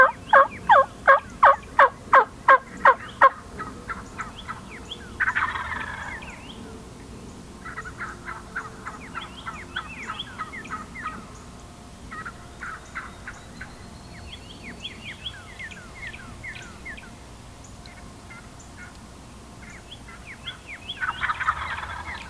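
Wild turkeys call in the woods: a rapid string of hen yelps at the start, then scattered clucks, purrs and gobbles from a few birds at moderate distance, with a louder burst near the end.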